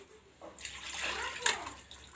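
Water runs and splashes over raw chicken as it is washed for a home curry, a short burst of steady pouring that starts after a brief quiet moment and stays fairly close.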